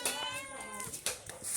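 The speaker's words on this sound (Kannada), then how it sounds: "ಮಿಯಾವ್ ಮಿಯಾವ್" A cat at a village home gives a few short, close meows in quick succession, fairly quiet, with little else around.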